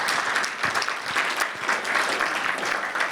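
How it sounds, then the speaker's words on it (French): Audience at a volunteer action centre event applauding an honoree, a dense, continuous round of clapping from a roomful of people, steady and fairly loud from start to finish. "on peut bien l'applaudir"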